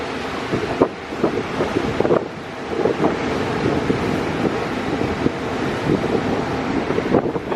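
Strong gusty wind from a storm by the sea at night buffets the microphone in a steady roar, with surges and brief lulls and a wash like surf underneath.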